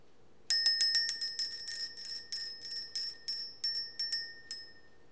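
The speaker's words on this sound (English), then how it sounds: "Let's ring the bell." A hand bell rung in quick bursts, a dozen or so bright metallic dings with ringing tails, some struck in fast pairs, loud and close with no talk over them.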